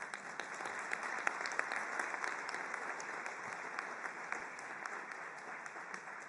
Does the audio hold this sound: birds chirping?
no